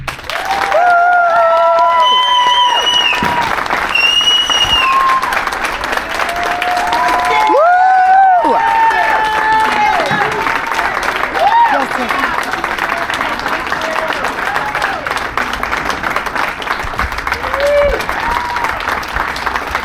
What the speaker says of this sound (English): with a round of applause, welcome Angie to the stage